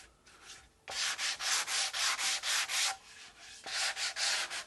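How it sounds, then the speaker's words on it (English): A guitar body is hand sanded with 180 grit sandpaper in rapid rhythmic back-and-forth strokes, a close, steady scratchy rasp repeated about a dozen times with a brief pause in the middle, no voices. "I'm using a 180 grit sandpaper"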